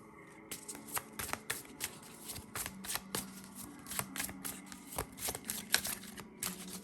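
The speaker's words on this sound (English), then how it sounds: "let me not talk before I pull all the cards" Tarot cards are shuffled and handled up close, making a quick series of crisp, papery flicks and slaps in an irregular rhythm, with no talking.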